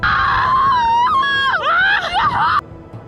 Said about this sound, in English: he wholeheartedly joined her in screaming at the top of his lungs, all the while flying through the sky